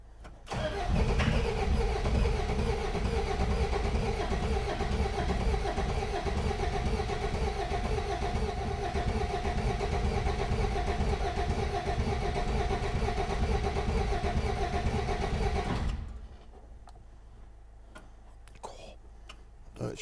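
A rusty, long-stalled Peugeot 404 pickup's diesel engine cranks continuously for about fifteen seconds with a rhythmic starter churn, failing to catch, then cuts off to near quiet with faint clicks.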